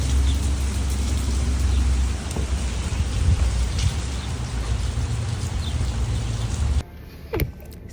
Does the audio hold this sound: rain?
yes